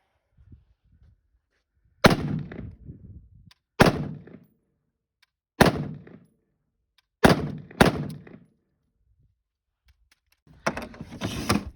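Five sharp gunshots from a firearm fired at a target outdoors, each a loud close crack with a short decaying tail, spaced about two seconds apart, then a burst of rattling noise at the end.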